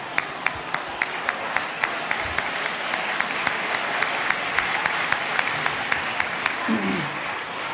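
An audience at a storytelling talk breaks into steady, broadband applause that carries on evenly throughout, with a regular sharp ticking running underneath the clapping.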